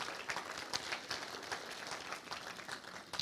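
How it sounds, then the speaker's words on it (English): Quiet, distant audience applause at an outdoor Walk of Fame honoree ceremony, scattered claps forming a soft, thin patter that lasts a few seconds. "So another round of applause for Emmett Kelly."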